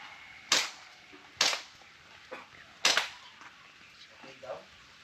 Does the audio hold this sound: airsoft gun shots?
yes